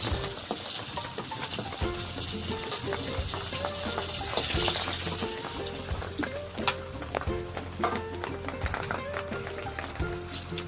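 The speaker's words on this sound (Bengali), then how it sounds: "মাছটা এবার ভাজা হয়ে গেছে," Katla fish pieces fry in hot oil in a kitchen, giving a steady crackling sizzle with scattered sharp pops and occasional utensil clinks, fairly quiet and continuous throughout.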